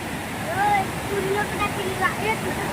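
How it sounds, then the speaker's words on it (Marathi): Steady rushing water roars loudly throughout, like a waterfall nearby, with voices talking over it. "बघितलं का वॉटरफॉल."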